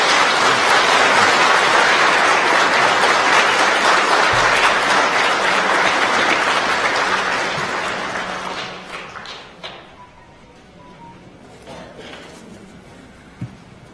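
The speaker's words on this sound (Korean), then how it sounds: "교회 여러분들께서는 축하와 환영의 박수를 부탁드리겠습니다." A church congregation at a Christmas Day Sunday service in Korea applauds after a baptism: dense, loud, sustained clapping fills the room, then thins out and fades after about eight seconds into a quieter hall with a few scattered sounds.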